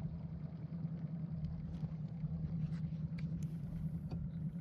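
A Mercury Pro XS 250 V8 outboard on a Nitro bass boat runs with a steady, low droning rumble that holds an even pitch throughout, with no voices over it.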